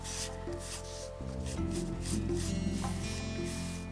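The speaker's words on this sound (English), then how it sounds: "Carry on burnishing it till you've got it all nice and clean" Soft, quiet rubbing as excess mosaic flakes are burnished off a craft card, a faint scratchy friction under a steady tonal background hum.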